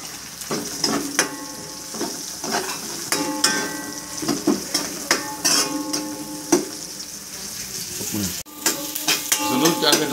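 Onion sautéing in a pan for a yellowfin tuna sinigang, a loud close sizzle with frequent metal spatula scrapes and clinks against the pan throughout.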